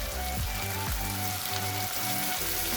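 Finely chopped tomato and capsicum frying in a pan over a medium gas flame, giving a steady, close sizzle with no voices.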